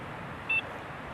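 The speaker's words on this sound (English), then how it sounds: "As you can just hear my alarm going off in the background on the receiver" A carp fishing bite alarm sounds once on its receiver, a single short electronic beep heard faintly over wind-like background noise at a lakeside.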